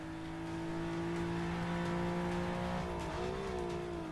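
Nissan GT-R engine racing in Forza Motorsport 6, a steady loud droning tone held at high revs, then dipping and rising again as the car brakes and powers out of a corner.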